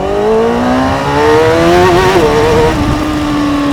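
A Honda CBR600RR sport bike launches and accelerates hard on a road at night, its engine screaming loud and close with a rising whine, a brief shift dip partway through, then continuing to climb.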